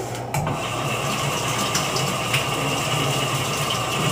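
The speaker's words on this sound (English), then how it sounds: "I'm going to rinse the strainer real quick after I scoop it out. Rinse the strainer clean" Running tap water gushes steadily over a kitchen strainer being rinsed clean of nut pulp, a close, loud, continuous flow with a faint mechanical hum underneath and no voices.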